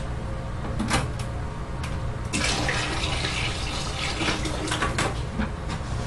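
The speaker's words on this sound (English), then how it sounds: "So I'm going to add some water right now." Water poured into a thick ceramic glaze mixture of chemicals in a bucket, a steady close splashing pour with a few brief louder gushes and knocks, no talking.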